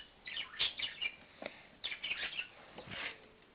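A small pet bird chirps in short bursts of bright, high tweets at its own reflection in a mirror, several quick chirp clusters separated by brief pauses, close and fairly clear.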